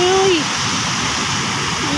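Strong floodwater rushes after rain, a loud, constant roar of flowing water close by, with a brief voice and a faint tonal sound over it at the start.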